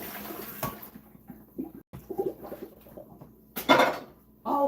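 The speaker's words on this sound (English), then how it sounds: "Oh, listen, I got some new pans." New pans being handled: intermittent metallic clanks and clatters of cookware at moderate level, with short gaps between knocks and a brief watery swish.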